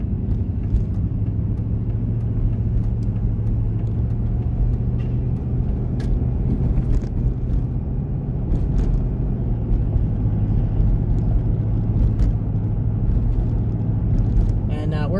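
A hot shot truck hauling a load of hay cruises along a North Carolina road, giving a steady low engine rumble and road drone that runs continuously at moderate level throughout, with speech faintly present.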